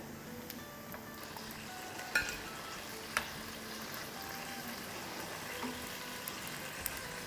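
Lauki koftas fry in hot oil with a soft, steady sizzle and bubbling, broken by a few light clinks as they are lifted out of the pan.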